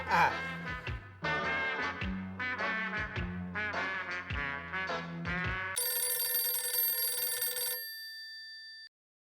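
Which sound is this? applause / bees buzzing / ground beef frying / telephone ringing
telephone ringing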